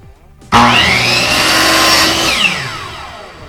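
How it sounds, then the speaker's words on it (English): Power saw blade cutting through a small round piece of wood, a loud sudden whine that starts abruptly, holds steady, then slowly winds down as the blade spins to a stop with no one speaking. "I want to make the cut and then hold the blade down until it stops spinning"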